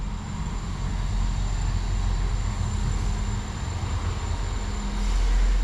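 A South Western Railway three-car Class 159 diesel unit, 159021, running the 0747 service from London Waterloo, arrives at Andover station with a steady, loud rumble that swells near the end.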